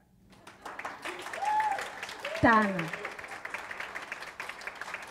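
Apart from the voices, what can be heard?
applause for the moderator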